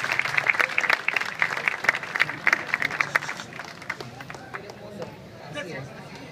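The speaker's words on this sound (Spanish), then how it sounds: "Fuerte los aplausos, por favor." Audience applause at a queens' runway show in Cancún, a steady wash of clapping from a crowd that holds loud at first, then thins and softens toward the end, with a voice over the top.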